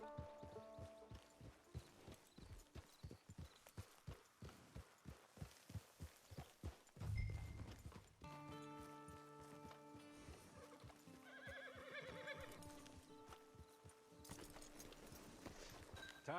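Horse in the video game Red Dead Online: steady, even clip-clop of hooves for several seconds, a whinny, then quieter movement under tonal game sounds.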